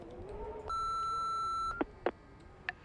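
A single clean, steady electronic beep sounds for about a second as a voicemail prompt in a video game, followed by a few short soft clicks.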